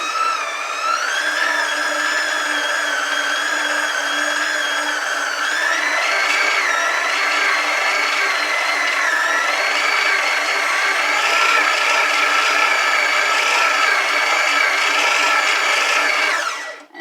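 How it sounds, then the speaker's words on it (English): A stand mixer whirs as it beats banana bread batter, a steady whining motor hum with slight shifts in pitch, running loud and continuous before cutting off at the end. "And I'm going to turn my stand mixer on and let it mix."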